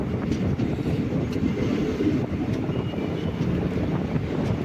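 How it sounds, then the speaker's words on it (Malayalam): A train rolls past a closed railway level crossing on a Western Ghats route between Sengottai and Tirunelveli, a steady low rumble and rattle of wagons with wind buffeting, continuous and fairly loud throughout. "റെയിൽവേ ഗേറ്റ് അടച്ച് ആൾക്കാരൊക്കെ വെയിറ്റിങ് തുറക്കാൻ വേണ്ടി വണ്ടി ക്രോസ് ചെയ്ത് പോകുന്നു."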